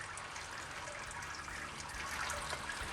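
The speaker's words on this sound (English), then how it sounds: "At the moment, if you can hear it, it's bucketing down rain outside" Heavy rain pours down outside during a home all-grain IPA brew, a steady dense hiss of falling water lasting throughout with no talking over it.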